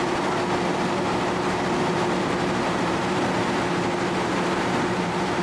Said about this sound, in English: With idle disconnected, the engine goes to the running speed.